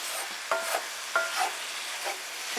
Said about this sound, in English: Give this a good stir so that all of those spices can get mixed in with the moisture that's in the pan already